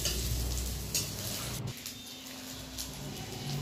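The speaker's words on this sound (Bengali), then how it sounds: "তেলের উপর আমি আগে থেকে কেটে রাখা বেগুনটা দিয়ে দিলাম, ভেজে নিচ্ছি।" Eggplant slices frying in hot oil give a steady broadband sizzle with a crackling spatter, continuous and fairly close, with a brief dip in intensity partway through.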